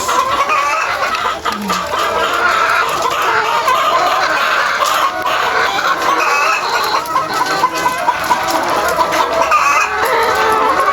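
A group of laying hens clucks and chatters continuously nearby on a chicken farm, a busy, overlapping flock sound with no talking.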